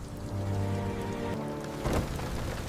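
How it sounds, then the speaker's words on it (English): Heavy rain pouring down hard outside a supermarket during a storm, a steady dense hiss throughout with a low rumbling tone underneath and a brief louder swell near the end. "The rain is pouring down so hard"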